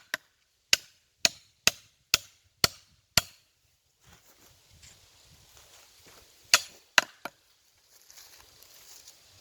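Sharp metallic strikes of a steel stake hammered into the ground ring out in a quick steady series of about seven blows, a pause with light handling noise, then a few more hits.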